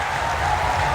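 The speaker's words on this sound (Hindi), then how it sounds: "एक बार जोरदार तालियां बजाइए सभी लोग" A brief burst of steady audience clapping at a Diwali Mela stand-up comedy show in Udaipur, over a low background hum.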